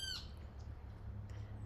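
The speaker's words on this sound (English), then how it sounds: "The nature and the birds here are amazing." A single bird squawks once sharply at the start, followed by a couple of faint distant calls over a low, quiet background hum.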